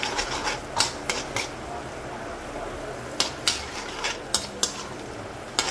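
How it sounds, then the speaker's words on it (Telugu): Spices tempering in hot oil in a pan for temple-style lemon rice, a soft steady sizzle with scattered sharp crackles and pops, close by, no voices. "చూస్తారు కదండి, పోపు వేగుతుంది."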